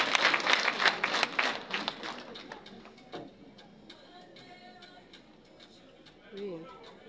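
Wedding guests applaud in a brisk burst of clapping that fades within about three seconds, leaving quiet room noise and a few faint voices.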